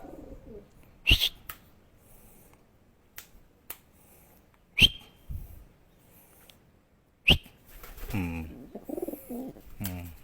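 Short bursts of bird wing flaps and soft pigeon sounds with sharp snaps, followed by a person talking near the end.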